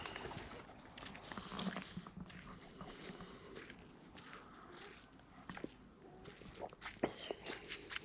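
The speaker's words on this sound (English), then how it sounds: "But all the birds are out." Morning birdsong beside a lake, with scattered calls and chirps over a steady outdoor background and occasional nearby footsteps or rustling, with no voices.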